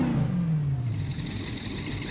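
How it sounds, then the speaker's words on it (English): A custom-built car engine revs and then winds down toward idle: a steady, close mechanical drone with a falling pitch and no voices. "the idle sound is crazy too, and obviously it is included with the car build"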